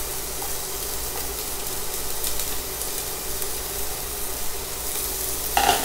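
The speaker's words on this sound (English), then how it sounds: "So I want to go ahead and drop my green pepper, shallots, and garlic" Green pepper, shallots and garlic sizzle steadily in a hot pot, a continuous bright frying hiss with light stirring scrapes, ending in a louder clatter.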